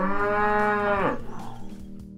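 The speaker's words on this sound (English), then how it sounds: "we all know what sound a cow makes" One long, low cow moo, loud and close, fading out into quiet background sounds.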